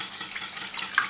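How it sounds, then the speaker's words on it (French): Seafood quiche filling of milk and cream being stirred in a bowl: a soft, steady liquid swishing with a faint utensil scrape near the end, close and quiet, no voices. "On mélange."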